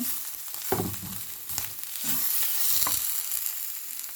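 Garlic and shiitake mushrooms stir-frying in a pan for bazhang dumplings, a steady sizzle with scraping stirs of a utensil at intervals, close and moderately quiet, no talking.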